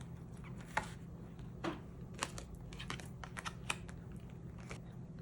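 Tarot cards being shuffled and drawn from a deck, soft papery flicks and crisp snaps scattered unevenly over a quiet room hum, close and faint.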